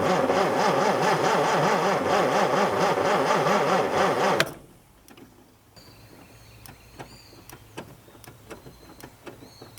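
An abandoned Mustang Cobra engine cranks with a rapid, rhythmic starter whir for about four seconds and then cuts off abruptly, leaving quiet ticks and small clicks. The failed start on a borrowed coil sounds close and loud.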